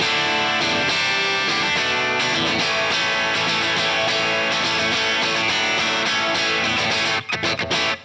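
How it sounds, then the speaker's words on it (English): Electric guitar with a distorted crunch tone through an amp, a dense sustained saturated chord ringing steadily for about seven seconds before cutting off in choppy bursts. "this is already a distorted crunch sound"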